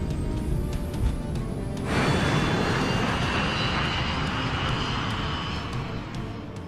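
A brand-new Boeing 737-400 passenger jet takes off. A steady engine whine swells sharply after about two seconds into a loud, continuous roar that holds through the takeoff run.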